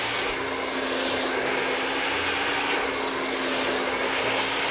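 A hair dryer blow-drying hair gives a loud, close, continuous roaring whoosh that stays steady throughout with no break and no speech.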